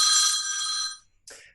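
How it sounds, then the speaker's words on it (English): An office phone system rings with a bright electronic trill lasting about a second, then a short second burst after a pause. "Sorry, that's our amazing phone system working."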